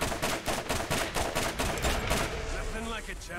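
Rapid bursts of gunfire in the shooter game Borderlands, a dense run of sharp, loud shots in quick succession that thins out toward the end, with game ambience behind.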